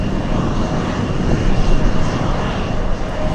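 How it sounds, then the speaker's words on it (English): Cargo airliner engines, a China Airlines freighter at Anchorage airport, running as a loud, steady roar with broadband rumble throughout, swelling slightly midway and heard without talk. "You see those engines running."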